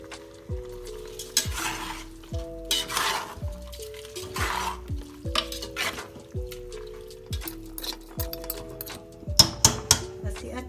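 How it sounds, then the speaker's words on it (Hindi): Mutton stew ingredients with halved green chillies are stirred in a pot, a steady run of spoon scrapes and clinks over a soft sizzle, with a voice talking intermittently in between. "अब ये मैं इसको मिक्स करती हूँ।"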